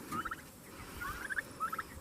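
Turkeys gobble in short rattling bursts, three quick calls spaced across two seconds over a low background rumble, moderately close.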